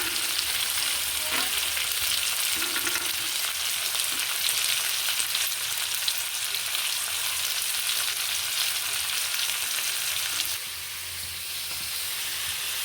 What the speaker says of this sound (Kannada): ಸರಿ ಫ್ರೈ ಆವೋಡು